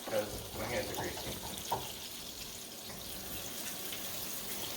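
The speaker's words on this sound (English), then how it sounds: "I'm going to wash my hands because my hands are greasy." Tap water running as greasy hands are washed under it, a steady splashing hiss with brief louder splashes near the start, close, and a voice in the background.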